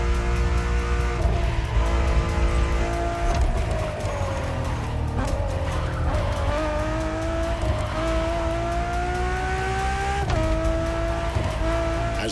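Ferrari Enzo supercar engine in The Crew Motorfest racing game roars loudly and continuously, its pitch climbing through gear shifts with brief tire squeals along the way.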